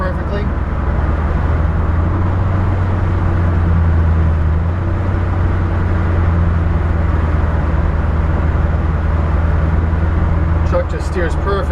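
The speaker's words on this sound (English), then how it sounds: "Truck just steers perfect down the road." A 1964 Ford F100 Styleside truck with power steering and disc brakes driving down the road, a steady loud engine and road rumble throughout with no speech.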